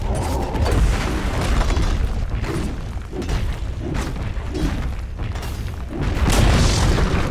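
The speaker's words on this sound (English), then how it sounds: "Dire's middle tower has fallen." A tower collapses in Dota 2 with a heavy booming explosion and crumbling rumble, followed by repeated thuds and a second loud burst near the end, amid dense battle noise.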